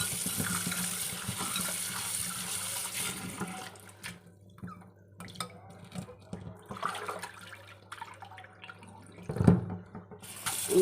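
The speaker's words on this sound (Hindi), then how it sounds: "इस बाउल में मैं नींबू भी धो दूँगी। तो इनको भी वॉश कर लेते हैं।" Lemons are washed in a bowl under a running kitchen tap. A steady rush of water gives way to quieter splashing and handling, with faint background sounds.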